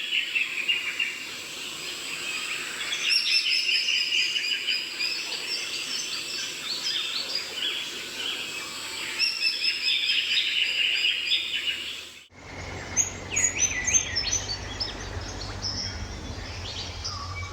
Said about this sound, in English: The spangled drongo has glossy black plumage, with iridescent blue-green spots, spangles, a long forked tail and blood-red eyes